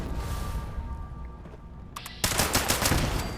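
Turrets in the video game Fallout 76 open fire with a sudden burst of rapid automatic gunfire, loud and continuous for the last second or so after a quieter stretch of background game ambience.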